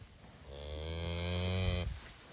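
Cattle in a grazed paddock give one long, close, loud moo lasting under two seconds, rising and then cutting off abruptly, with no talking.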